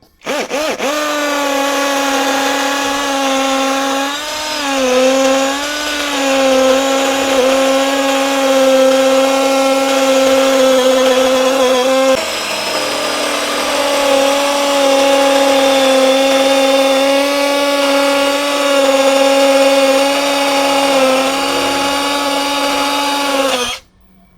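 A Gtools GT34+ cordless impact drill with a 10 mm bit whines steadily and loudly drilling concrete, its pitch dipping briefly under load partway through, with a short pause midway before it resumes.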